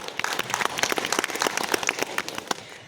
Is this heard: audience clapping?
yes